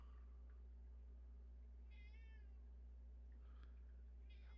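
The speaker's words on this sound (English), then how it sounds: "My cat just meowed at me because he did not like that joke." A domestic cat meows a few times at a faint, close range, with short separate cries over a steady low indoor hum and no talking.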